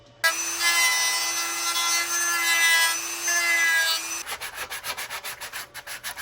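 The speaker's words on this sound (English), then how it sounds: "for that, we need to use a Dremel." A Dremel rotary tool grinds down stormtrooper armor plastic, giving a steady close whine for about four seconds before it breaks into a run of rhythmic scraping strokes.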